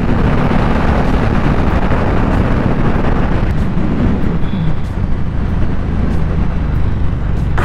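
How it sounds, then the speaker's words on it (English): Strong wind roars continuously over the microphone while riding a Yamaha Stratoliner Deluxe motorcycle, a loud, steady buffeting rush with the engine buried beneath it. "Wind is so strong."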